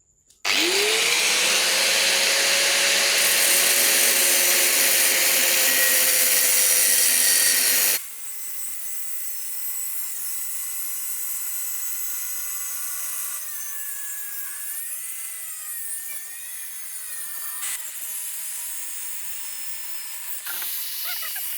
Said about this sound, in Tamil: இப்போ நம்ம இந்த கட்டிங் மிஷினை பயன்படுத்தி இந்த பகுதியை வெட்டி உள்ளே என்ன இருக்குது அப்படிங்கிறத பார்த்துடலாம்